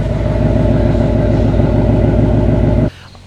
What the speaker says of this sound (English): Texas Speed long tube headers, catalyst system paired with the active exhaust